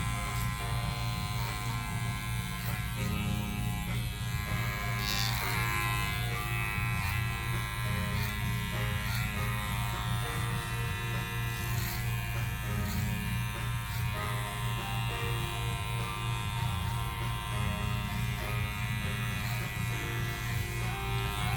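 Electric hair clippers buzz steadily while cutting hair clipper-over-comb during a fade haircut. The motor drone is constant and close, with faint talk in the background.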